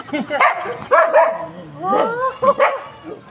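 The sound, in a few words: dog barking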